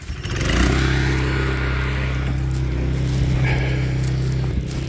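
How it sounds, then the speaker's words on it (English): Big tractor driving past in exceptionally heavy snow in Norway, a loud low diesel engine drone with steady harmonic hum that swells and holds as it passes close by. "Once the big tractor goes past."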